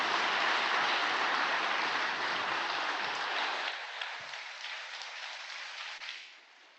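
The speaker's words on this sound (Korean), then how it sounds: "다시 한번 따뜻한 박수로 모셔주시면 감사하겠습니다." Applause from a gathered congregation at a Family Federation event, a broad sustained clapping that holds steady for a few seconds, then thins and tapers off to scattered claps before fading out.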